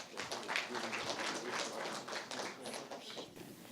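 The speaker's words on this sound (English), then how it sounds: "So let's give them a round of applause." Audience applause for student presenters at an artificial intelligence ideas symposium, a steady dense wash of clapping lasting the whole stretch at moderate level, with no voices over it.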